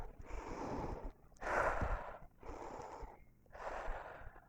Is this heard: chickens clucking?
no